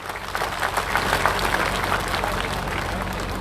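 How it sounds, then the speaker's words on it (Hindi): An audience at a Haryana gathering breaks into loud applause to welcome Satpal ji, a thick, steady patter of clapping from many hands that continues evenly throughout. "एक बार जोरदार तालियों से सतपाल जी का स्वागत कीजिए।"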